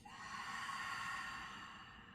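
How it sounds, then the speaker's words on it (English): A deep, slow exhale through the mouth during a guided breathing exercise, one steady breathy rush lasting about two seconds, close and moderately loud with no talking. "Let's take a deep inhale through the nose and a deep exhale through the mouth."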